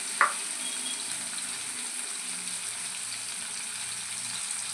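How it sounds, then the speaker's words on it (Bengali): Onions frying in a pan with mustard oil give a soft, even sizzle throughout, opened by a brief sharp clink near the start. "যেই পেঁয়াজটা ভাজা হয়ে যাবে"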